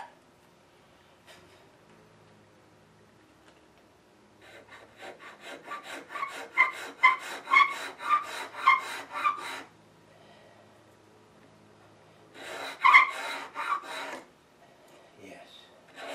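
A hand tool scrapes the wood of a 17th-century bench side apron being shaped, with a quiet stretch, then a run of rhythmic rasping strokes, a pause, and a second short burst of strokes, close by.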